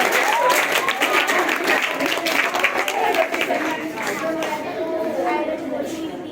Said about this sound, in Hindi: तालियां अभी बजाइए।